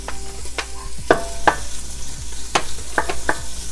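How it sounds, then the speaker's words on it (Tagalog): Pork meat fries in a pan for a lomi noodle dish, a steady close sizzle broken by several sharp clanks and scrapes of a utensil stirring against the pan. "Next, I'm going to add our pork meat"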